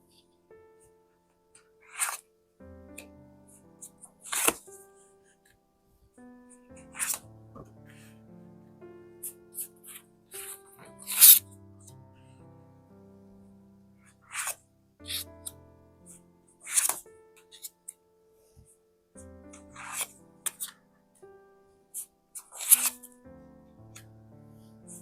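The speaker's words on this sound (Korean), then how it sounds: "카드 셀렉하겠습니다." Tarot cards handled and selected one at a time, with crisp shuffling and sliding bursts in an irregular rhythm, each swish standing out against a quiet background and low tonal music underneath.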